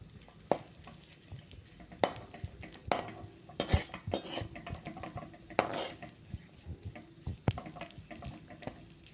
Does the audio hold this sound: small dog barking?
no